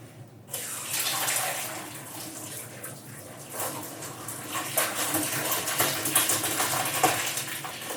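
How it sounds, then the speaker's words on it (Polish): Cold tap water gushes over cooked tortellini in a kitchen sink, starting abruptly after a brief silence and running loud and close, splashing and fluctuating for the rest of the clip. "przepłuczę wodą"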